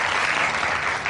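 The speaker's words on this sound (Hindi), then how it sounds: "सो इसके लिए ताली हो जाए" An audience claps in a dense, continuous burst of applause. It sounds close and loud throughout the short moment, and no voices come through.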